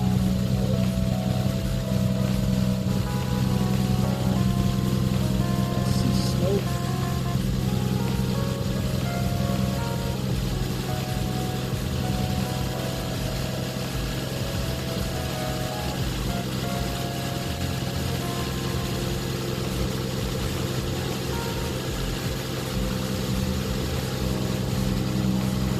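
Lexus GS300 engine idling with a newly installed Flowmaster exhaust manifold, a steady, continuous low rumble with an even hum that holds level throughout, close by, with no speech.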